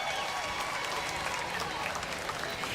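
Crowd applause and cheering spread along the Texas Cavaliers River Parade in San Antonio for the 2025 parade marshal, a dense and steady wash of clapping carried outdoors at a moderate distance.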